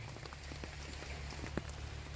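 Rain falls steadily outdoors at a rural mushroom-growing spot in Thailand, a soft continuous patter with scattered sharper drops. It sounds fairly faint and even throughout, with no voices.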